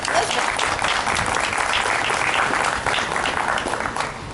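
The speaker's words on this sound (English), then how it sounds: "So please, everyone, let's clap for Elizabeth" An audience claps for a woman honored at a Women's Equality Day political event, dense loud applause sustained throughout before easing slightly at the end.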